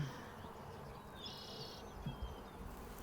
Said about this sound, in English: That's a great bunch of bees.